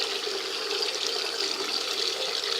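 Tap water runs steadily onto a blood-stained cloth, a constant close hiss and splash with no pauses.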